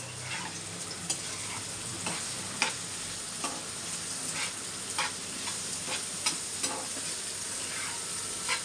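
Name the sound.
food frying in a pan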